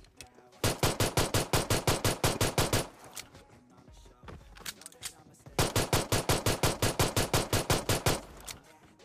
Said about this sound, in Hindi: एक बॉट M249 लेके तुम्हारे भाई पे हमला कर देता है।